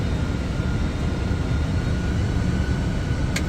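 Boeing 747 engines running up for a heavy takeoff, a loud continuous rumbling roar with a faint steady whine, heard from inside the cockpit without speech.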